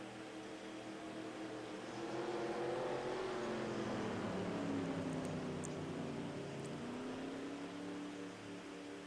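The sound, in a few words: race car engines in a racing video game at Laguna Seca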